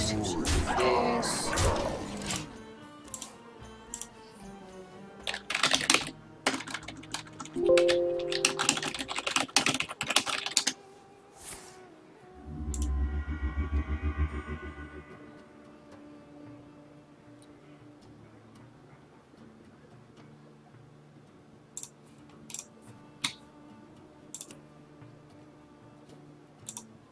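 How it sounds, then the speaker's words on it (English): Computer keyboard typing, clusters of quick clicks in the first half, followed by a low rumbling thump and then sparse isolated taps, close to the microphone with a voice briefly present. "Being super rude and typing while I'm filming."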